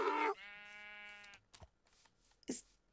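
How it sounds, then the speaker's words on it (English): A Minecraft donkey gives a single drawn-out braying call with a harsh onset and a tonal middle, followed by a couple of short, softer grunts, close and clear. "Hey, it's a donkey."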